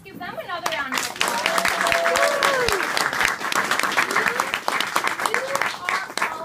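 Steady applause from a crowd at an early learning centre graduation ceremony swells and continues, with scattered cheers and voices talking over the clapping.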